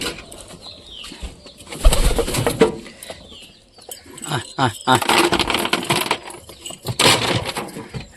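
Pigeons in a loft being fed corn, with soft coos, flapping wings and small clattering sounds heard close by, while someone talks over them at intervals.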